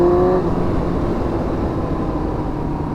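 A Yamaha R1 sport motorcycle runs a short loop, its engine a steady low droning rumble close by, with a brief higher whine at the start fading into constant road and wind noise.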